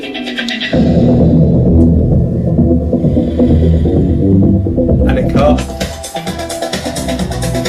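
Deep booming bass pulses through a car's bodywork, heard outside as a loud muffled throb, with a brief burst of brighter sound near the end.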